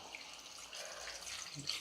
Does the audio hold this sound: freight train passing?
no